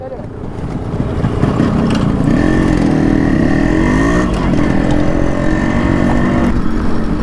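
Tuned Yamaha RX135 motorcycle engine idling and revving steadily nearby for several seconds, a continuous throaty two-stroke drone with rising and falling pitch, while people talk over it.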